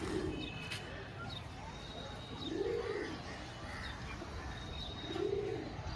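Pigeons kept for sale coo in low, rounded calls that repeat about three times at a steady interval, each drawn out and fairly close, with a steady background murmur underneath.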